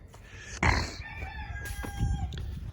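Chickens cluck and a rooster crows nearby on a farm at sunrise, with overlapping calls over steady outdoor background noise.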